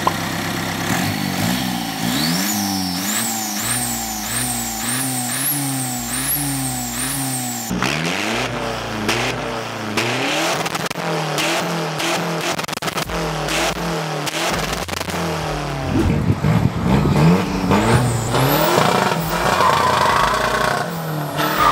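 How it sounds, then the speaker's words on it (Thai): A remapped, modified car engine revs repeatedly and loudly, rising and falling in sharp bursts before settling into a rough, throbbing idle, heard close with no voices. "เดี๋ยวเรามาฟังเสียงกันเลยดีกว่านะครับว่าเสียงจะประมาณไหนนะครับรีแมปมาใหม่ด้วยนะครับ"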